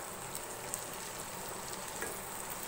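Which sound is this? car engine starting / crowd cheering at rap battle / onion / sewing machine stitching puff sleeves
onion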